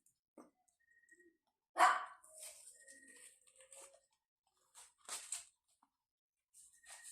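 Playful dogs giving short scattered barks and faint yips and whimpers, quiet and intermittent with gaps of silence between them.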